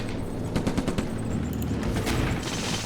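Rapid bursts of gunfire and shots crack loudly in the Stalingrad war game, a dense fusillade of close, overlapping reports with no talk.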